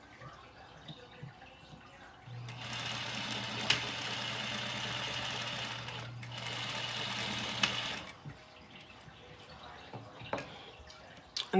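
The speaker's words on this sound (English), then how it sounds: "I'm gonna sew down both sides" Sewing machine stitching down both sides of a washable fabric face mask, a steady motorized whir in two runs of a few seconds each with a short pause between, close and clear, with quiet handling noises around it.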